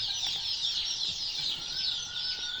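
Newly arrived chicks, among them Sebright, turkey and Wyandotte breeds, cheep in a high, steady chorus inside a chicken coop on a very cold day, close by and continuous with no talk over it.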